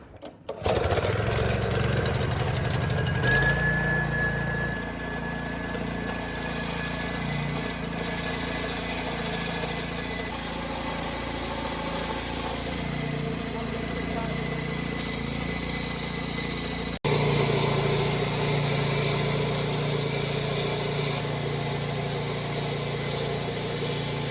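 A Honda motor starts and then runs steadily at close range for over twenty seconds, a loud continuous engine drone with a brief click partway through and no speech.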